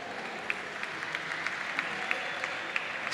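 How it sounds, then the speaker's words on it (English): An audience applauds at a CS:GO esports grand final. The clapping is soft and distant, a steady patter with a few sharper claps standing out, and there is no talk over it. "Can we get a round of applause for the Hungarians here?"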